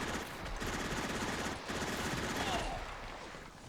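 Dense machine gun and rifle fire from the Sudden Strike 2 war strategy game, the Hidden Stroke mod, rattling continuously in rapid overlapping bursts at steady loudness for nearly four seconds.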